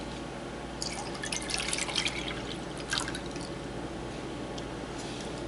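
1.5 cups of milk poured into a baked corn mixture: a soft trickle and splashing of liquid over about two seconds, fairly faint above steady background hum.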